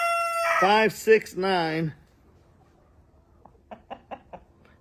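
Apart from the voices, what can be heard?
rooster crowing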